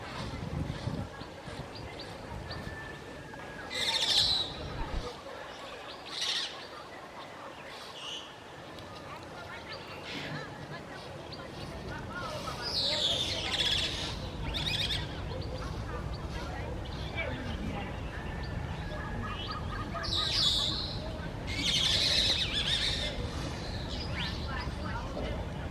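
Wild Senegal parrots in The Gambia give several sharp, shrill calls in short bursts, scattered over a steady outdoor background.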